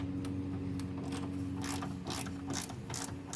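A hand ratchet turns the hood bolts on a Honda Del Sol with quick, repeated metallic clicks in a steady rhythm, close up and clear over a low background hum. No one speaks.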